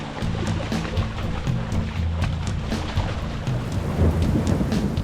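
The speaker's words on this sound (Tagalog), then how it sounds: "bumuhos na agad ang ulan" Heavy rain pours down steadily with deep rumbling beneath it, a dense, loud wash of water, heard during a trip in Zambales by carabao and cart.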